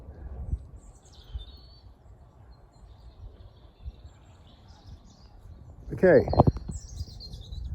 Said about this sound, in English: It's just me and some beautiful birds singing.